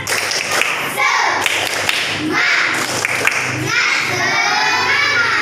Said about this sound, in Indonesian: Kasih semangat kelompok religius. Tepuk tangan.